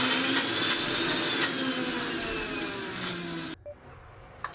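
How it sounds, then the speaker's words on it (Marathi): A mixer grinder coarsely grinds moong dal with green chillies and an inch of ginger, a loud steady whirring drone that runs for over three seconds and then cuts off abruptly, leaving quiet clicks behind. "आता याच्यामध्येच ही मुगाची डाळ आपल्याला टाकून द्यायची आणि जाडसर वाटून घ्यायची"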